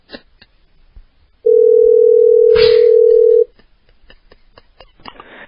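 Telephone dial tone heard while calling someone back: a steady, loud single-pitched tone lasting about two seconds, preceded and followed by faint clicks and handling noise, with no talk.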